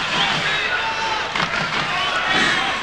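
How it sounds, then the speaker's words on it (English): Crowd at a 2001 tennis Davis Cup quarterfinal in Florianopolis roaring and cheering after a double fault, a dense continuous wash of noise with shouts, loud throughout. "Happened to the old etiquette about not cheering double faults."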